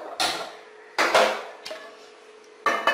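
A metal pan set down on a gas stove in a home kitchen, heard as three sharp clanks at spread intervals, with a fainter knock between them. A low ring of metal sits under the impacts.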